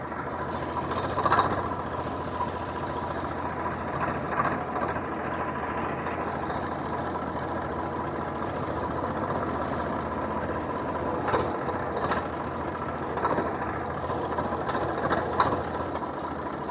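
A Swaraj 744 tractor runs in reverse gear, its diesel engine chugging at a low, fairly quiet idle-like pace with a few brief clanks and knocks over a steady drone.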